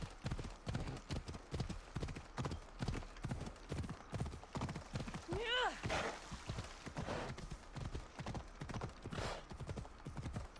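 Horse hooves clip-clop in a steady, rapid rhythm throughout while riding in Red Dead Redemption, close and prominent, with a brief whinny around the middle and occasional talk over the galloping.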